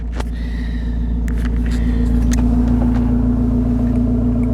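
A yellow 1.7 club spec van engine idling in neutral, a close, loud and steady low rumble with a constant hum, plus a few faint clicks and knocks over it.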